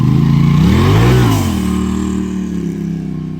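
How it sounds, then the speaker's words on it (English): A wrecked chassis, brought in on a skid loader, drives out of a driveway under its own power. Its engine revs up and down once, close and loud, then settles into a steady rumbling idle, with no talking. "Brought into my driveway on a loader and driving out."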